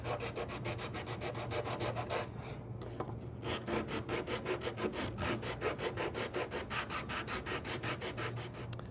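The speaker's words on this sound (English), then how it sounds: "Sanding block makes quick work of that." Rapid rhythmic scraping of a sanding block rubbing back and forth over wood, close and steady, with one brief pause partway through.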